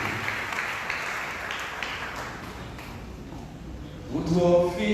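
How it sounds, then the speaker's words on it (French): A church congregation applauds during a Sunday worship service, giving a dense, moderately distant wash of clapping that continues steadily until a voice begins speaking near the end. "tournez en applaudissement"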